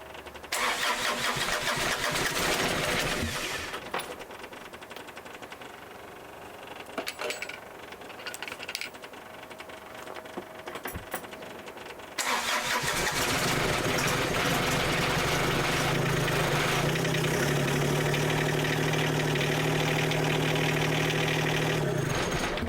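A key-started engine cranks, stumbles through a few rough attempts, then catches and settles into a loud, steady idle with a faint whining tone, close by and with no talk.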